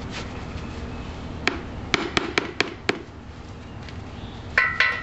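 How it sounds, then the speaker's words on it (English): Outdoors beside a 14-foot jon boat, a ball peen hammer raps staples down to seat them: a single sharp tap, then a quick run of five crisp strikes, with a brief clatter near the end. "I got a little ball peen out here"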